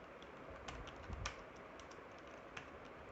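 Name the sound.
typing on a computer keyboard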